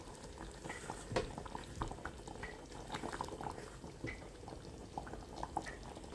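A pot of fish curry simmers with soft, continuous bubbling and occasional small pops, quiet and close, with no talk over it.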